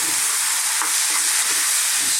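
Tomatoes tipped into a hot pan of chickpeas sizzle steadily while being stirred, a bright continuous frying hiss with soft scraping stir strokes, close and alone.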